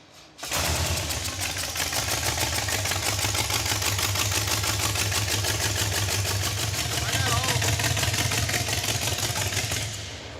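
An engine with its valve covers off idles low and steady nearby, with a fast mechanical clatter of ticking running continuously for several seconds.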